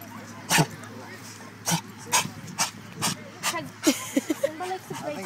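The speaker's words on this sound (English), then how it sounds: "I think it's all him growling" A pitbull at a park growls and whimpers in play, a series of short close vocal bursts in uneven rhythm with yips between, under people talking nearby.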